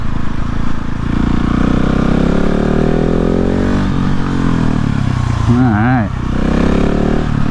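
A 2020 Husqvarna 701 motorcycle on a ride, its engine droning loud and close throughout with rising and falling revs, while a rider speaks briefly over it.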